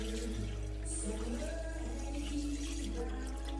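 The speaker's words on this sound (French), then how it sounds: "Donc je vais mettre 1000 g d'eau" Tap water running steadily into a Thermomix bowl for homemade laundry detergent, a continuous close splashing pour with a faint background hum and no voices.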